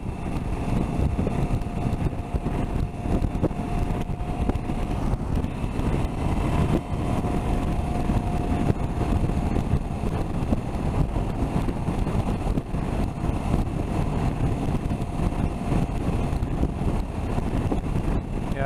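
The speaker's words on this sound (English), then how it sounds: "I'm getting some side wind now" Side wind buffets the microphone on a KTM 790 Adventure motorcycle riding on a highway, a constant loud roar and rumble of wind and road noise with no break.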